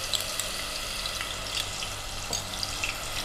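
Onion paste frying in about a quarter cup of hot oil for mutton kofta, a soft, steady hiss and crackle close by with a few faint pops.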